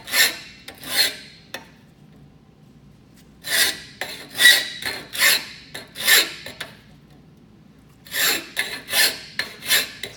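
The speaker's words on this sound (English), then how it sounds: "you want to make sure that it's finding the miter each time, and you're keeping your file strokes nice and consistent" A hand file works a bicycle frame tube miter in rhythmic, rasping strokes: a few early strokes, then steady clusters of five or six scrapes with short pauses between, close and clear.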